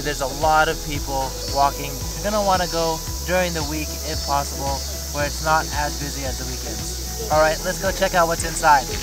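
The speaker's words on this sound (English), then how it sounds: "Do you hear the crazy loud cicadas in the background?" A steady high-pitched drone of loud summer cicadas runs throughout beneath people talking nearby at Meiji Jingu Shrine in Tokyo.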